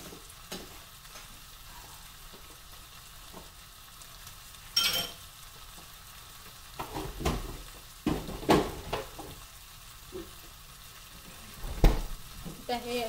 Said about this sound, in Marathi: आलं लसूण पेस्ट सुद्धा छानपैकी वाटपाबरोबर भाजून घ्यायची